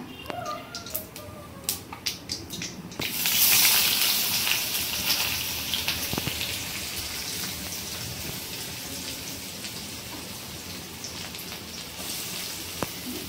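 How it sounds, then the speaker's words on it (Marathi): Mustard seeds sputtering and popping in hot oil along with cumin, curry leaves and onion, a dense crackling sizzle that surges loudly and then settles into a steady fry. "राई फुलली आहे चांगली तेलात।"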